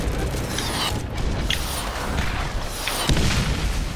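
Fireworks burst in the Borderlands video game, a run of booming explosions with crackling and whooshing streaks, loud and dense for several seconds among other game effects.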